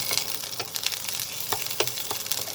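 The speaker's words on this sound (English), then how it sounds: "Before it gets burnt up, we'll add the chopped onions. Sliced onions." Sliced onions sizzle and crackle in hot oil in a pan for a bottle gourd chicken curry, a steady close frying hiss broken by sharp pops and stirring scrapes, with no talking.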